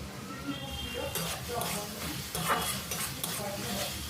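Spice paste stirred continuously as it fries in a pan, giving a steady scraping and sizzling sound with utensil scrapes against the metal, close and fairly even, with background voice at moments.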